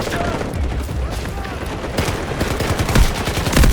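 Loud bursts of rapid gunfire rattle in Delta Force, close and punchy, with heavier shots near the end, while a player talks over the shooting.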